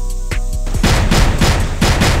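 Gunfire in a shooter video game: a sustained, loud burst of rapid shots, dense and continuous, with a brief tonal sound at the start.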